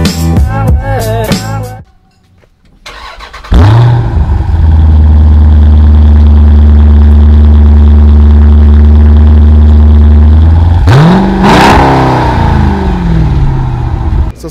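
A vehicle engine idles in the Dominican Republic. It starts as a loud, steady low rumble that holds for several seconds, then rises briefly as if revved, with a short quieter gap before the engine comes in.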